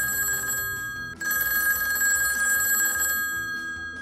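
A telephone rings with a steady, bright electronic trill, loud and continuous, over a busy musical background with no talking.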